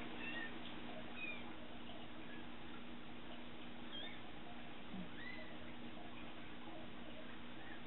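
Six-day-old hand-raised kittens give a few faint, thin mews over a steady low hum and noisy background, with brief high squeaks scattered through the stretch.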